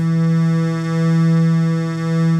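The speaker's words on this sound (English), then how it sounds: "and that's the sound of detuning" A sustained synth tone with a slow, regular wobble in volume as slightly detuned oscillators beat against each other, loud and steady.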